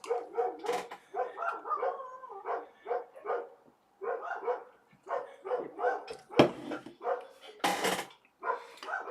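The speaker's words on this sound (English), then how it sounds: "I can't stand people leave their dogs out barking all day" Neighbours' dogs left outside, barking repeatedly at a moderate distance in uneven bursts with some yips and whimpers between, a couple of sharper louder barks near the end.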